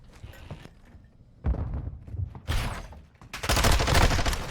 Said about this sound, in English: A close gunfight, but it goes the way of Kev